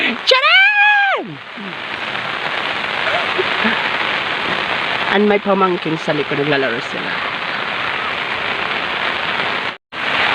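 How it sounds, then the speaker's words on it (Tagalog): Steady rain falling during the rainy season in a rural rice-farming area, a dense continuous hiss throughout, with someone talking over it and brief voices in the background. "as you can see, umuulan po dito"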